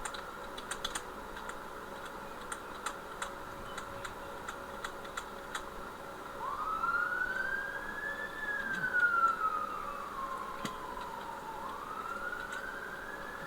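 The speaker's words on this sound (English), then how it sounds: "I can hear a siren behind me" An emergency vehicle siren wails faintly from outdoors, its rising and falling tone passing in the distance behind sparse keyboard typing and ticking in a home garage.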